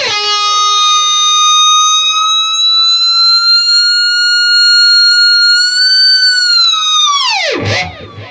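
Schecter Banshee Elite 6 FR-S electric guitar at the quicker-response setting blooming quickly into loud, piercing sustained feedback that holds steady and then dives sharply in pitch at the end.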